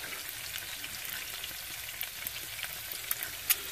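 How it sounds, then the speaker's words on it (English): Sausage, egg and cheese fry together in a pan on a camper stove, a constant crackling sizzle with occasional sharper pops and clicks near the end, close up and with no voices. "and cheese all being fried up here right now"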